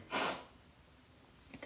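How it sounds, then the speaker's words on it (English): A single sharp human sneeze bursts out near the start, close and fairly loud, followed by a short quiet gap and a faint breath or sniff at the end. "I feel a sneeze coming on, I apologize."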